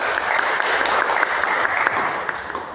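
An audience claps steadily throughout a talk session, a dense and fairly loud round of applause with individual claps showing through.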